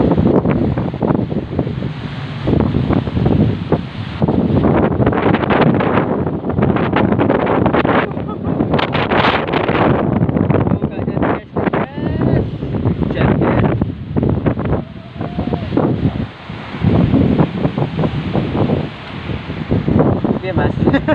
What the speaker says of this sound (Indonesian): ternyata anginnya kencang